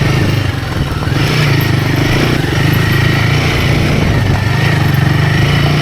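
A Royal Enfield Himalayan 450 motorcycle is riding down a steep trail descent in second gear, its engine loud, close and steady with a constant rumbling drone and a little mechanical clatter, with no talk.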